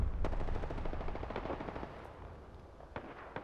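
Rapid bursts of automatic gunfire from a distant enemy in the battle royale game Apex Legends, a steady rattling stream that thins out toward the end with a few isolated cracks.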